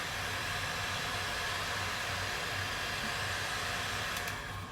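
A heat gun blows hot air onto a Woodubend flexible wood moulding to soften it, producing a loud, steady, unbroken rushing whoosh throughout.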